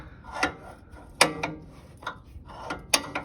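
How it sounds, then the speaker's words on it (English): A big wrench tightens a coilover collar on an EM2 Honda Civic, making sharp metallic clicks and clanks in uneven bursts, close to the listener and with no voices. "So you take the big wrench, tighten this"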